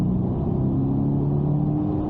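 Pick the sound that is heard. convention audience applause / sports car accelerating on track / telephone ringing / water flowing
sports car accelerating on track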